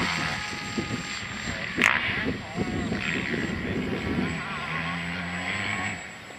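An AXN model airplane flying in strong wind at a model aero club field, its propeller engine droning and shifting in pitch at a middle distance, with wind buffeting and voices talking over it.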